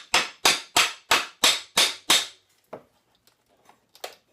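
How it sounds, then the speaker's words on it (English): A hammer strikes nails while a wooden pallet is taken apart: seven sharp, evenly spaced loud blows in quick succession, then a few fainter scattered taps and knocks. "hammer it back in, you can expose the nail head and pop that guy out"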